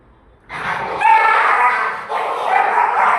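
Lucy's puppies bark and fight close by, a burst of sharp yips, barks and whimpers starting suddenly after a quiet moment and carrying on in two loud bouts.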